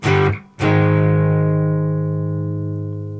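Distorted electric guitar plays the ending of a power chord riff: a brief chord, a quick gap, then a final power chord left ringing and slowly fading, loud and close with no voices.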